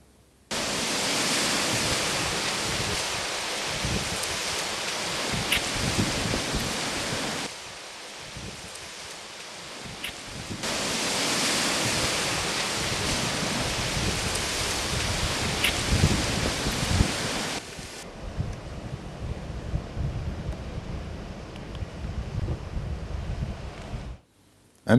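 Ocean surf and wind on the wild coast of the Quiberon peninsula in Brittany, a steady broadband roar that holds for long stretches, drops away briefly twice, then swells again, loud and continuous with no voices.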